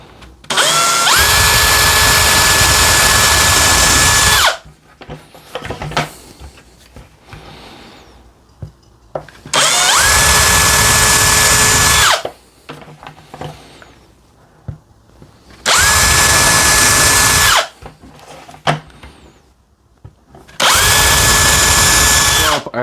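A power drill with a small bit whirs loudly in four separate bursts of a few seconds each, with quiet handling noises and small clicks in between, in a woodturning shop.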